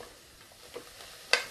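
Vegetables sauté in an Instant Pot with a soft background sizzle, faint stirring scrapes and one sharp utensil clink near the end, quiet and close.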